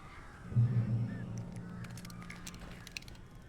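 Crows inside a cabin in the Alan Wake video game give a loud, harsh honking caw near the start, followed by fainter scattered calls and light clatter.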